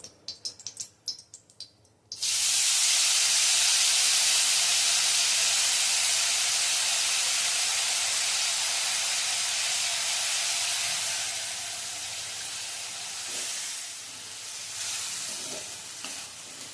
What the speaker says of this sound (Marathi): हा किस आपण कढईत शिजवून घेणार आहोत